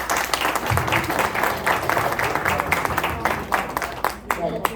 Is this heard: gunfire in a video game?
no